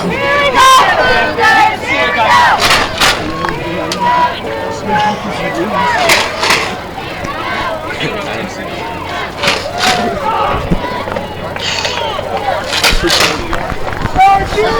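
The Del Campo home crowd chants rhythmically at a Friday night high school football game against Roseville. Many voices shout in repeated bursts across the stands, and nearby talk blends into the din.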